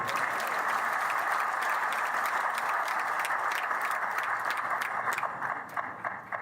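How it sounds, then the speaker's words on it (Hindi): A large crowd at a BJP political rally in Panchkula claps loudly and continuously in a dense, even roar of applause that thins slightly near the end. "बजाओ ताली जोर से"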